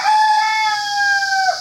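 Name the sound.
rooster crowing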